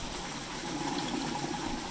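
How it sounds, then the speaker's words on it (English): A bell siphon drains roughly 25 gallons of water, a steady rushing, gurgling flow with a continuous slurping quality as air begins to be sucked in. "When you hear that slurping sound, that's because it's starting to suck air through those holes and slits that I showed you."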